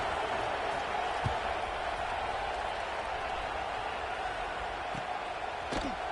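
A stadium crowd in a Madden football video game makes a steady, dense roar of cheering and murmur that holds level throughout, with a few faint thuds.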